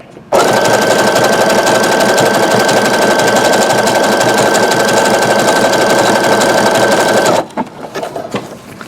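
A Brother SE625 sewing machine stitches through rope coiled into a bowl, running loud, close and unbroken for about seven seconds before stopping abruptly, leaving a few small handling sounds.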